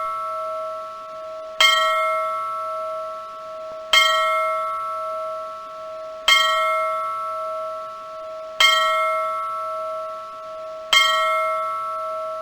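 A deep bell tolls in the Ripley's Believe It or Not! video game, five evenly spaced loud strikes each ringing out with a long sustained decay, heard alone.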